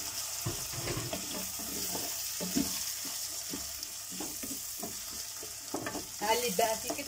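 Rice frying in a pot with oil being stirred, a steady sizzle broken by repeated scraping and stirring strokes, close and continuous, louder toward the end.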